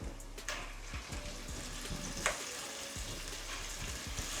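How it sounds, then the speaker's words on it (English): Chana dal roasts with pink-cooked onions in a pan, giving a faint, steady sizzle broken by soft repeated scraping as it is stirred. "Next, we'll roast chana dal again for 3 to 4 minutes."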